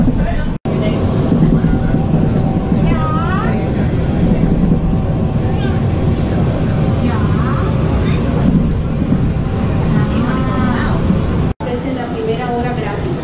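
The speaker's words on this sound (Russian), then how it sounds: "Клевый поезд?" An airport shuttle train rumbles steadily along the track, close and continuous, with people chatting over the noise.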